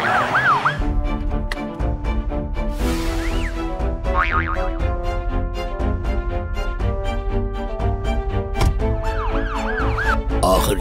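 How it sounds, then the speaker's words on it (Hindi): Wailing ambulance siren sweeps rise and fall a few times over loud, busy cartoon-style music with springy boing effects. "जल्दी से एम्बुलेंस भेजिए"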